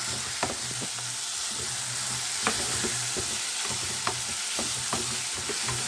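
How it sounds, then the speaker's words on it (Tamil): Curry leaves crackle in hot oil for carrot chutney: a loud, continuous sizzle close by, punctuated every second or so by soft knocks of a stirring spoon, with no talking. "கருவேப்பிலை சேர்க்க போகிறோம்"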